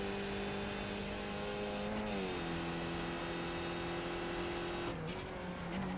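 Race car engine in the iRacing sim on the Spa circuit, holding a loud steady drone, with its pitch dropping sharply twice as it downshifts to third, with no talk.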